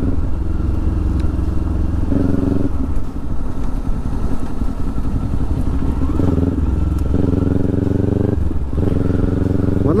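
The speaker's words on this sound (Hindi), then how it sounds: "मतलब बाइक पे तो मज़ा ही आ जाता है ना ऐसी राइड करने का" A motorcycle rides along a road in New Zealand, its engine droning steadily and loud throughout, with occasional shifts in pitch and light clatter.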